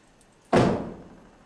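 A single heavy door bang in an abandoned hospital corridor, a sudden loud thud with a reverberant tail that fades over about a second in an otherwise quiet space.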